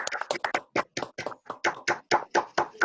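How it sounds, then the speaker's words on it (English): Scattered hand clapping from a few participants on an online call comes through unmuted microphones as sharp, separate claps in an uneven but steady rhythm, close and dry. "Can everyone unmute mics and give a little applause"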